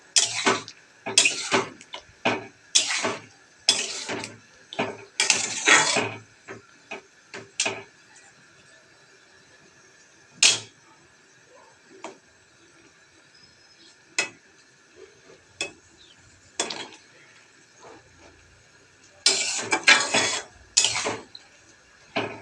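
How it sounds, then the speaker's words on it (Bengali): A spoon stirs jujube (kul) pickle in a cooking pot, making clusters of scraping, clicking strokes that come in bursts, thin out into sparse single taps, then pick up again near the end, close and without voices. "এবার আস্তে আস্তে নেড়ে চেড়ে ভালো করে পাক দিতে হবে"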